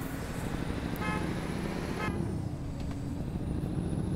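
A vehicle horn honks repeatedly in Euro Truck Simulator 2 while a tuned Mercedes-Benz Axor truck drives through Minsk, with short toots over steady engine and road rumble and a hiss like air brakes.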